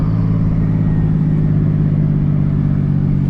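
An 800 HP big-turbo BMW 335i engine with a 67 mm turbo runs loud and steady while spooling, giving a dense, droning mechanical roar heard up close from inside the car.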